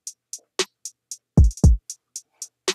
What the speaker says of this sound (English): So as you can see, I have hat, kick and snare, the basic ones that you need.